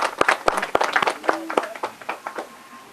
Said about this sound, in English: We give them a round of applause for their excellent work.